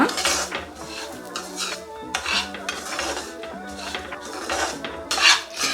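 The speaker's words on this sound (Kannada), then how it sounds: "ರವೆನ ಕೂಡ ಲೋ ಫ್ಲೇಮಲ್ಲೇ ಇಟ್ಕೊಂಡು ಹುರ್ಕೊಳ್ಳೋಣ" Rava (semolina) roasting in a pan on low flame for kesaribath, with a spoon scraping and clinking against the metal pan in repeated stirring strokes, close and clear, with faint music underneath.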